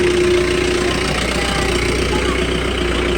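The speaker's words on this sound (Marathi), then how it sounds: "चला गाडी आले त्या गाडीने जायचं आहे" A passenger vehicle idles at night in a Konkan village in light rain, a loud steady engine drone with a constant low hum close by, under which voices can faintly be heard.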